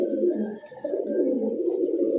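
Giribaz pigeons coo in a steady, continuous low burble from close by, the soft throaty calls overlapping without pause and with no talking over them.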